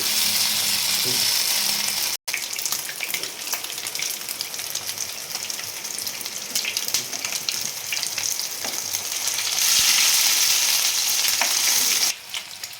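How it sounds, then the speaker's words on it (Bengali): Pieces of bhetki fish fry in hot oil with a loud, steady sizzle that briefly cuts out and swells again near the end, continuous throughout without speech. "অন্য পিটগুলো ভাজা হয়ে যায়"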